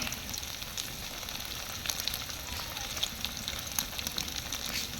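Onion and spice paste with cumin paste fries in a pan for an iftar dish, giving a dense, even sizzle up close. Small sharp pops crackle over the hiss throughout.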